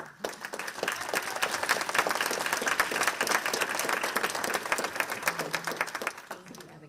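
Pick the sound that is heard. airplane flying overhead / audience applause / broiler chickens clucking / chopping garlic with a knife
audience applause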